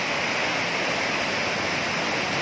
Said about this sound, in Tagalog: Well, tingnan na tubig guys. Super duper na baha.